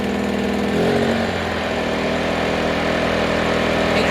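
A WEN 2000 inverter generator engine runs steadily at close range, a continuous mid-pitched buzzing drone with a slight shift in tone about a second in, and no voices.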